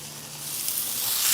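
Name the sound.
steak sizzling on griddle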